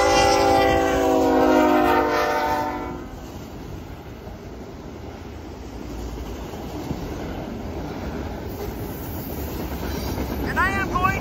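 A Norfolk Southern eastbound manifest freight train passes a county road crossing, opening with a loud, sustained horn blast over a steady rumble, then continuing as a long rolling drone of wheels and cars with a few sharp squeals near the end.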